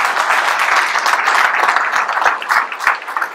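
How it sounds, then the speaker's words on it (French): Dense, steady applause fills a hall during the presentation event for the 2025 Boucles Guégonnaises in Guégon, honouring the organising team. The clapping is close, sustained and crowd-sized, with no clear speech over it. "on peut l'applaudir Manu"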